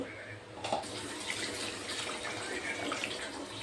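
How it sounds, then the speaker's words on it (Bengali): Water poured steadily into a cooking pan for a soybean bora curry, a continuous close splashing stream lasting the whole stretch, moderately quiet. "জল আর একটু বেশি দেব।"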